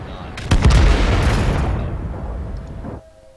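A tank gun firing in World of Tanks gameplay, one loud booming shot followed by a rumbling decay lasting a few seconds before it cuts off.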